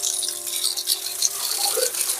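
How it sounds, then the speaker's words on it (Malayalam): Water splashes and pours steadily over a drinking water filter being rinsed clean with water from a bucket, a continuous bright hiss with no talk. "ആ ബക്കറ്റ് വെള്ളം എടുത്ത് ക്ലീൻ ചെയ്താണ് ഒന്നുകൂടെ നമ്മൾ അതിനെ"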